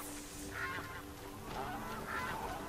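Geese honk in the video game Horizon Zero Dawn, two faint distant honking calls over a steady ambient game background.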